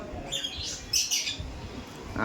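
Soft chirps and cooing calls of baby Madras pigeons at a sale in a busy, noisy loft, with rustling and low background rumble throughout.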